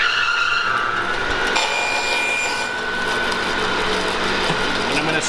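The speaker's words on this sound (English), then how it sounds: "So when we start this up, I'm going to cut this board" A Harvey Alpha bandsaw spins up to resaw a board, a steady mechanical whir and hum with a faint ratcheting edge, close and continuous for several seconds with no talking.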